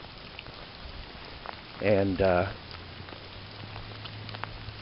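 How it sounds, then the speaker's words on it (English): Light autumn rainfall heard on a walk outdoors, a soft steady patter of drops in the background, briefly covered by a short spoken word. "a nice light rain."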